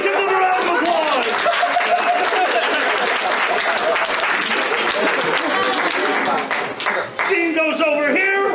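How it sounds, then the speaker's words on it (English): An audience at a furry convention improv show claps and cheers in a loud, sustained round of applause, with chatter, laughter and voices mixed in over the clapping. "Give them a round of applause!"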